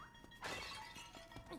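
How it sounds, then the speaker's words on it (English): A single clay pot breaking apart in The Legend of Zelda: Link's Awakening (2019), a short crunchy crash followed by a lighter rattle of fragments over soft game ambience. "I don't remember pots smashing other pots as well."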